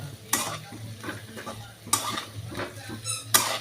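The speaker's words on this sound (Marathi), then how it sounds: "तर त्याच्यामध्ये आहे ना हे वांगे टाकूया" Eggplant pieces stirred into roasted masala in a pan, with scraping spoon strokes and clatters recurring every second or so over a steady low frying sizzle, close and moderately loud, no voices.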